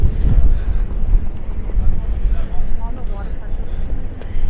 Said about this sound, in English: It's hella windy right now.